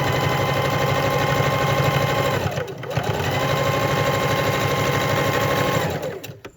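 A sewing machine runs a straight stitch down the middle of a fabric bowl cozy. It whirs in a fast, even mechanical chatter, pauses briefly near the middle, then runs on and winds down at the end.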